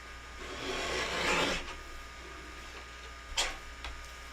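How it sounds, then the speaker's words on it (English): Paper being cut into 3-inch squares for a card project produces a soft, close scraping swish lasting about a second, then a brief light snip a couple of seconds later. "So I'm going to cut 2 more 3-inch squares."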